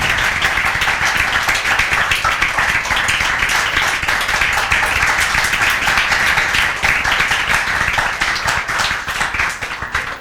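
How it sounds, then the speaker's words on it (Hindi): A classroom audience claps loudly and continuously for a student, a dense, even patter of many hands that holds steady and tapers slightly at the end. "दिव्यांशी अग्रवाल के लिए जोरदार तालियां"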